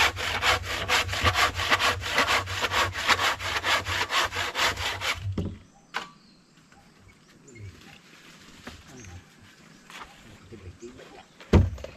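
Hand saw cutting wood at a construction site, with fast rhythmic back-and-forth strokes close by for several seconds, then stopping, followed by quieter handling noises and a sharp knock.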